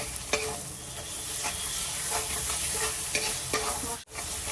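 Spice masala of turmeric, chilli powder, salt and a little sugar sizzles steadily in a pan for a mushroom masala, with a few sharp scrapes of a spoon stirring it and a brief drop near the end.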